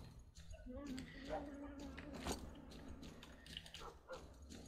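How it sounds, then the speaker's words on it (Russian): Several dogs bark and yelp in the post-apocalyptic shooter S.T.A.L.K.E.R., repeated sharp barks at mid distance over a low ambient drone, with someone talking throughout. "отреспаунились собачки"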